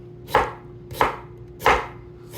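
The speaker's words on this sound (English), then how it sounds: "So just gonna cut these very thin as well." A knife slices an onion thinly for ceviche, giving three evenly spaced, crisp cuts against a board, close and clear with no talking.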